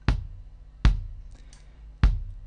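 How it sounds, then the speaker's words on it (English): Kick drum captured by a microphone inside the drum in a BFD Eco sampled kit, three clicky, punchy hits with a sharp beater attack and a quick low tail, heard alone at an uneven pace. "the inside microphone gives me a clickier tone"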